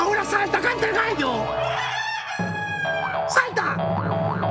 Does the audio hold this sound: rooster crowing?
yes